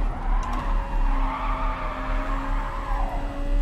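In Gran Turismo Sport at Dragon Trail Seaside, a race car brakes hard into a long, sustained tire squeal over a pulsing engine drone, close and fairly loud for several seconds.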